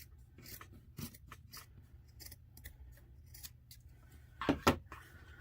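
Scissors snip through a cotton T-shirt being cut down into a smaller tote bag: a run of light, crisp cuts, then two louder, closer snips near the end, alone with no voice.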